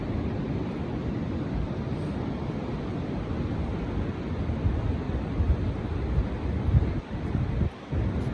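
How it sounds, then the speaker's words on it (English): Wind buffets the microphone on a sunny beach at Hotel Coronado, California, with broad steady rumble of surf beneath; the roar stays constant and loud, with a brief dip near the end. "It's a gorgeous day out on the beach."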